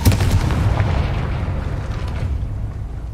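A Confringo spell detonates in Hogwarts Legacy, a loud, deep blast that rolls out and fades over a few seconds.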